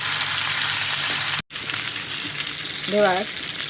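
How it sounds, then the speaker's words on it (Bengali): Large tilapia fish frying in hot oil, a loud and continuous close sizzle that cuts out for a moment, then resumes with a brief tonal whine near the end. "আগেরগুলো ভেজে নিয়েছি এগুলো ভেজে নিচ্ছি"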